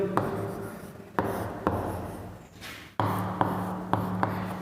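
Chalk or marker writing on a board during a physics lesson on linear momentum, a scratchy rubbing stroke with sharp taps at the start of each word, repeated several times at close range with no talk.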